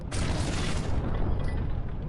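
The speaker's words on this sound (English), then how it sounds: "With each shot, the silence of the village was interrupted by an explosion." A tank shell explodes among village houses in a single heavy, rumbling blast that fills the whole clip, loud and close, with debris-like roar fading slightly at the end.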